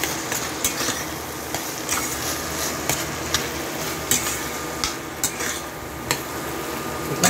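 Chicken sisig with mayonnaise mixed in sizzles steadily in a pan, with frequent light clinks and scrapes of a spoon against the metal, close and continuous, no talking.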